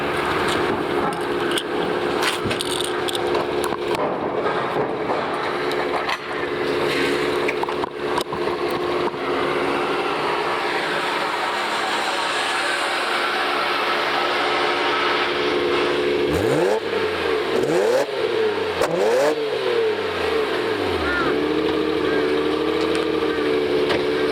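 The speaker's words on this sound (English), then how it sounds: "You can hear that. Sounds pretty nice at idle." A 1989 Nissan Skyline GT-R, a USA import, idles with a steady, loud engine drone throughout, joined near the end by a few rising and falling revs.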